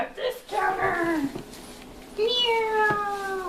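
Meowing cat indoors during an Easter egg hunt: two drawn-out meows, the first wavering and the second longer and brighter, heard close.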